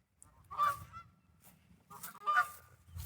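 Geese honk and squawk in two loud bursts with a few quieter calls between, close by at the Soo Locks near new US Army Corps of Engineers tugs.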